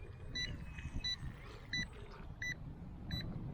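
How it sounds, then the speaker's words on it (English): Eachine EBT04 brushless RC speed boat's telemetry alarm beeping in five short, evenly spaced bursts of high electronic tones, fairly faint over a low outdoor rumble. "Got that telemetry alarm, to bring it in."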